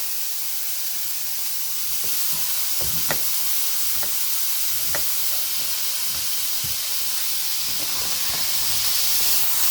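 Mushrooms in a pan giving a constant loud frying hiss, with regular spatula scrapes and taps from stirring sounding every second or so throughout.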